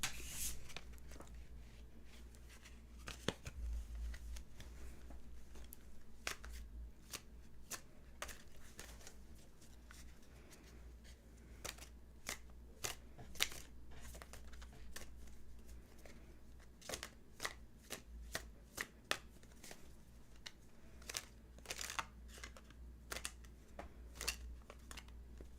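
Tarot cards being shuffled by hand in a quiet room, giving repeated crisp flicking and riffling bursts in irregular clusters over a faint steady background hum, close and fairly soft, with no talking.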